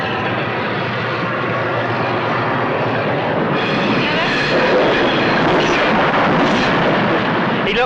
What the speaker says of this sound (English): He looked and watched the train go by like that.